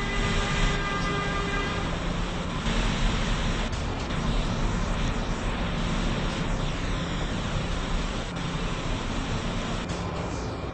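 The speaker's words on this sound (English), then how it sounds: "There is a local train approaching the station." A local subway train rumbles steadily as it approaches an underground station, a continuous roar of wheels and rails with faint high squeals.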